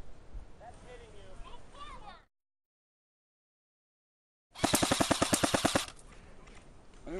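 Airsoft guns fire a rapid automatic burst of about a dozen sharp cracks at players during a winter game outdoors, close and loud, after a stretch of talk and a silent gap.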